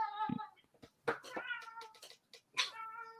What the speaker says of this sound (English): it's a cat running around with a mouse, but it's a catnip mouse